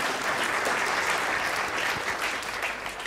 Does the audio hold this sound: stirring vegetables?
no